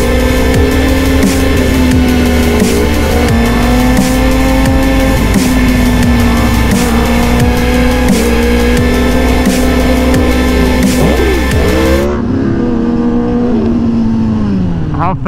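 Engine of a stunt motorcycle, a sustained loud droning rev that holds steady for about twelve seconds and then drops sharply to a quieter idle, with people talking over it.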